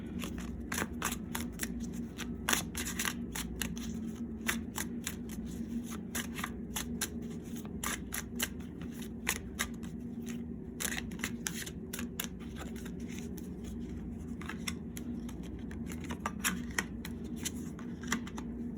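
A tarot card deck is shuffled quietly and continuously, with soft riffling and papery flicks repeating in a loose rhythm over a low background hum.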